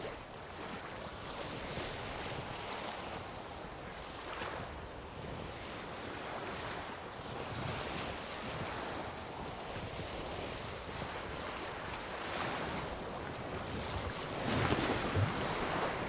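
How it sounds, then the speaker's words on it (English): Boat sail flapping over ocean waves in The Witcher 3, a continuous wash of surf and wind rushing with soft rhythmic swells, steady and moderately loud throughout with no voices. "Fall off a bit. Sail's fluttering."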